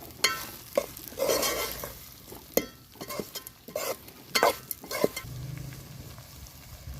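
Stuffed eggplant in coconut chili masala frying in oil in a pan, with a soft sizzle under repeated stirring scrapes and clatters, close and uneven.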